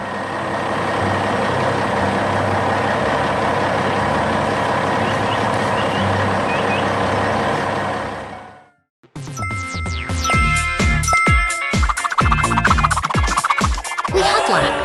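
Animated trucks in a 3D cartoon, with a yellow concrete pump truck among them, drive with a loud, steady engine rumble for about eight seconds. After a brief gap, busier clanking and melodic effects follow.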